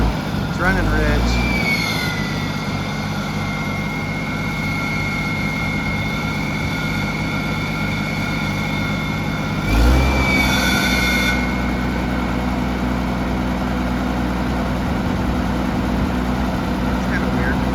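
An old Oliver Super 77 tractor engine idles steadily while running rich after its plugs were cleaned and points filed, a loud continuous rumble with a faint whine and a brief surge midway, while people talk over it.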